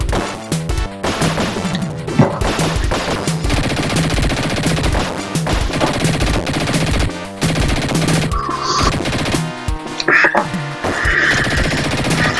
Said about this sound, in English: you've really got to shoot Ichi as much as you can, because he's got energy.